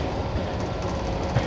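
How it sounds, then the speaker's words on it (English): Train braking and slowing in the game Running Train, a loud, dense rumble of wheels and running gear on track, steady and close throughout. "start getting this train slowed down."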